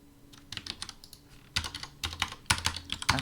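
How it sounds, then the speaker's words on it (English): Someone types on a computer keyboard in irregular clusters of sharp, close clicks that grow louder and denser toward the end, over a low steady hum, with no speech. "I'm gonna type something else."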